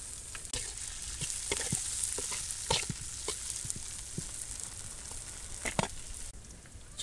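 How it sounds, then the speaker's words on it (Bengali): Chopped onion and garlic fry in hot oil in a wok-style kadai for greens in a village kitchen, giving a steady soft sizzle broken by occasional clinks and scrapes of stirring. "শাক বাগার দেওয়ার জন্য কড়াইতে তেল দিয়ে দিলাম, পেঁয়াজ রসুন কুচি,"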